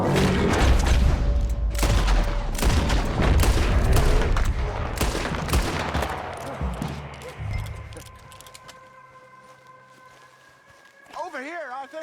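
Rapid gunfire from Red Dead Redemption 2 fills the opening, with dense bursts of shots and booms over galloping hooves and shouting voices, thinning out to quieter ambience and a brief horse whinny near the end.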